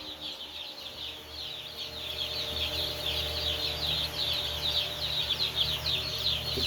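Many Cornish Cross meat chicks chirp steadily in a brooder box, a dense, continuous twittering with a low mechanical hum beneath.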